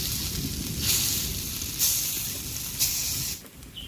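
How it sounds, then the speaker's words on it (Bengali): Vegetable kofta balls of papaya, carrot and potato sizzle steadily in hot mustard oil, a continuous close crackling hiss with a few brief louder bursts, no voices. "সর্ষে তেলে ভাজবো দিয়ে দেবো তেলের মধ্যে তেলটা কিন্তু গরম হয়ে গেছে"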